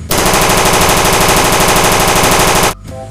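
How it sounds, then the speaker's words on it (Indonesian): A toy AK-47 blares a loud electronic rapid-fire burst, close and continuous for nearly three seconds before cutting off abruptly, with no talk over it. "AK-47 teman-teman."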